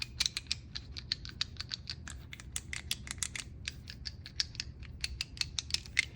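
Half-inch drive wobble socket extensions being rocked on their joints, giving a rapid series of small, dry metallic clicks and creaks, close and fairly quiet, with no talking.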